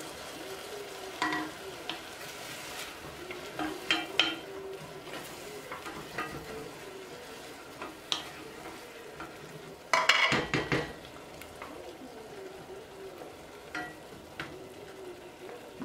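A steady sizzle of a sauce base for beef stew frying in a pot runs throughout, broken by occasional scraping stirs and clinks of a utensil against the pot, with one louder clatter midway.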